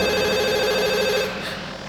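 A telephone rings with a steady electronic ringtone, loud and continuous before cutting off near the end, heard alone without talk.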